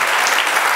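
A church congregation applauds loudly and briefly, a dense wash of close clapping with no break.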